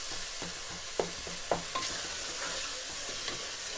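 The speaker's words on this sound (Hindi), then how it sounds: "और अभी इसमें हम इसको भूनेंगे अच्छे से, और साथ ही मैं मसाले भी शामिल कर दूँगी। थोड़ा सा इसे मैं मिक्स करती हूँ" Tomatoes and spices fry for mutton keema with spinach, a low sizzle under close stirring, with a few sharp spoon knocks against the pan early on; no voices.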